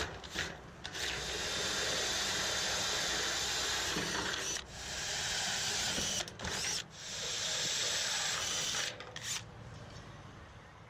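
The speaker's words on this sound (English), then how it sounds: "Next, we need to drill the drain holes in each of the deck pans." A power drill bores drain holes through metal deck pans during a canopy installation, producing a loud, continuous grinding rasp that runs steadily with a few brief pauses between passes.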